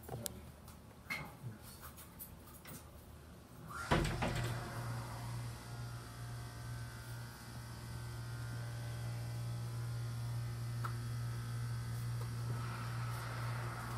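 An Otis hydraulic elevator machine room in an office building, quiet handling noises first, then a pump motor starts with a sudden thump and settles into a steady low hum that runs alone to the end.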